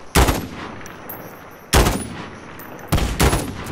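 Gunfire from the video game Call of Duty: Modern Warfare, with an M16 class setup: three loud, sharp bursts roughly evenly spaced, each with a quick echoing decay, and no talking.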